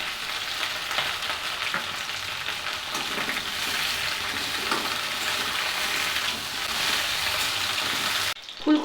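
Cauliflower pieces fry in hot oil with a constant bubbling sizzle and crackle, close and even throughout, ending with a brief clatter.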